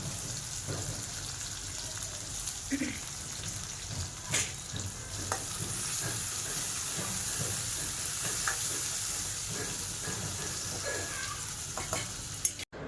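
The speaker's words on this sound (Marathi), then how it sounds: "कांदा पण थोडा गोल्डन होईपर्यंत आपल्याला भाजून घ्यायचा आहे" Onion frying in oil in a pan until golden, a steady close sizzle with occasional soft scrapes of stirring, continuing throughout without speech.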